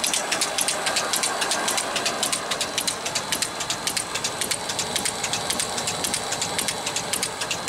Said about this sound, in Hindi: AC 3 फेज मोटर है और इसके RPM 1460 हैं।